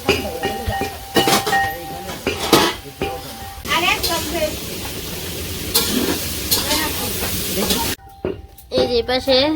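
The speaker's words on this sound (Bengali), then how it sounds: "রসা তরকারির জন্য আলু ভেজে রাখছে" Potatoes frying in oil for a curry at a village Hindu ceremonial feast, a loud continuous sizzle with stirring and clanking of pots, while people talk over it.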